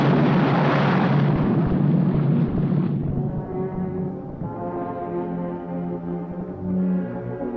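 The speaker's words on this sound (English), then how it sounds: "for the big climax, we have an explosion" A huge explosion roars at the climax of the 1959 monster movie Attack of the Giant Leeches, a dense loud blast that rumbles and slowly dies away into a low, droning tail.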